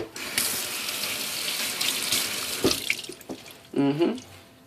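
A sponge is wetted under a running faucet for a dental night-guard job, with a steady sink gush for a few seconds, then a few close clunks and a short mechanical whir as the water stops.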